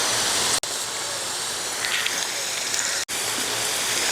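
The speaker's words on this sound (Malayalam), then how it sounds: "കരിവേപ്പില ഇട്ട് കൊടുക്കാം" Curry leaves dropped into hot oil with mustard seeds, garlic and ginger for beef pickle, giving a steady, loud, dense crackling hiss that runs unbroken apart from two brief cuts.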